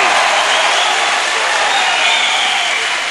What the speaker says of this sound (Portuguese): Torcida vibra aqui no erro do Smirnov.